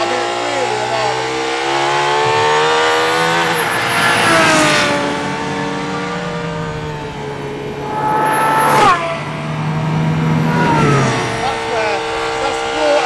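Aston Martin Valkyrie hypercar engine screaming at high revs on a race track, rising and falling through gear changes with sharp peaks and sustained high-pitched wail, loud and close throughout.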